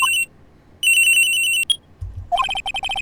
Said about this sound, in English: And around 10:30, I received a call on my cell phone.